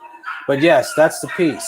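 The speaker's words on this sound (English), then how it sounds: "That's why you might hear the dogs in the background." Dogs yip and bark in short, whiny bursts, mixed in with a person talking over them, all within under two seconds.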